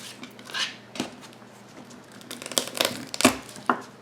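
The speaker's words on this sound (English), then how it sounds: "Peel off the paper of this garlic, or the outer skin." Garlic clove having its dry, papery outer skin peeled off by hand in a kitchen: soft close crinkles and rustles with a few sharper crackles and taps, no talking.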